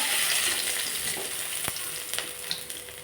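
Cumin, sugar and two bay leaves sizzle in hot mustard oil, a steady close frying hiss broken by a few sharp crackles and pops, with no talk over it.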